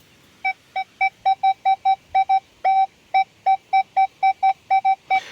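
A Nokta Score 3 metal detector on a beach sounds a coin signal: a run of about twenty short, evenly pitched electronic beeps in quick steady rhythm, clear and close with no talking.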